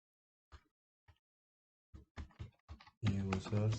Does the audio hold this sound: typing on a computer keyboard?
yes